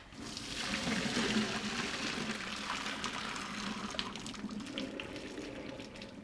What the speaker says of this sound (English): over to the sink to drain carefully